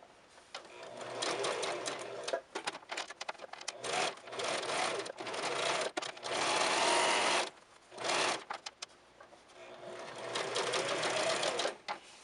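Sewing machine stitching back shirring on fabric, running in steady bursts of close, busy whirring with short pauses between runs as the presser foot is lifted and the fullness tucked under.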